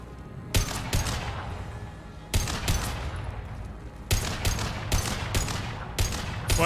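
Gunfire in the Mass Effect 2 video game, loud rapid bursts of automatic fire in several sustained volleys separated by short pauses, close and dominant with no talk.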